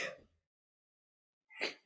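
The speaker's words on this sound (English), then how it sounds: "Hold on, I'm going to sneeze first." A person sneezes: a short burst at the start, a silent pause, then a second sharp sneeze, both close and fairly faint.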